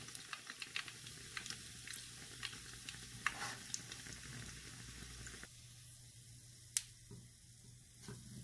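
Chicken bread pakora shallow-frying in a pan over a medium flame, giving a steady close sizzle with soft crackles and brief stirring or turning scrapes throughout, no talking.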